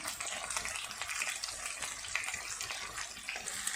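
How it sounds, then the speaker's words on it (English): Taro root pieces frying in oil with turmeric powder, giving a steady close sizzle and crackle with scattered pops and no talk. "we'll fry till it's golden brown"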